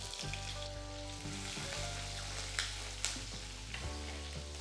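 Sliced shallots and green chillies sauté in hot oil with curry leaves for a coconut sardine curry: a steady, close sizzle with a few soft stirring knocks and no voices.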